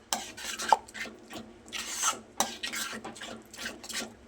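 Salt being stirred into a sorghum flour khichu batter, with a steady scraping and rubbing of a spoon against the pot, close and fairly quiet, with no voices.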